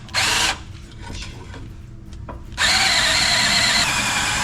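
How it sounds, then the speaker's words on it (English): A drill press bores through material in two loud, close whirring bursts: a brief spin at the start, then quieter clunks and handling noises, then a longer sustained drilling run to the end. "This is our drill press"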